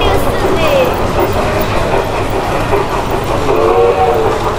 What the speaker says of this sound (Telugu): ఇంకొక ట్రైన్ వచ్చేసింది.